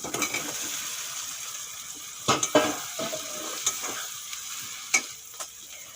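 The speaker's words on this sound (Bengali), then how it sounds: "ভালো করে মশলাটা কষিয়ে নিয়েছি এখন দিয়ে দেবো ভেজে রাখা আলু আর সয়াবিন" Fried potatoes and soybean chunks stirred into frying masala for a soybean curry, giving a steady close sizzle broken by several sharp scrapes and clinks of a spoon against the pan.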